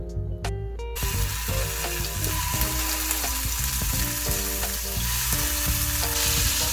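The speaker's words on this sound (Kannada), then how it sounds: "ಪನ್ನೀರ್ನ ರೋಸ್ಟ್ ಮಾಡ್ಕೊಳ್ಳೋಣ. ಸೊ ಅದಕ್ಕೆ ನಾನು ಘೀ ಹಾಕ್ಕೊಳ್ತಾ ಇದ್ದೀನಿ." Paneer roasting in a generous amount of ghee in a pan, a steady close sizzle and fry hiss running the whole time with no talk, over a background of sustained musical tones.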